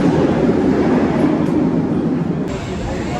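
A Cedar Point roller coaster train rolls into the station with a steady, close rumble of wheels on track that fades slightly toward the end.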